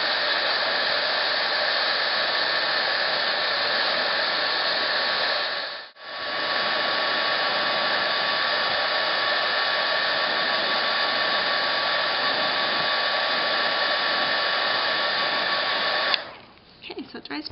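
Heat gun blowing a loud, steady roar while drying hand-dyed crinkled seam binding ribbon, with one brief dip in the middle before it cuts off near the end.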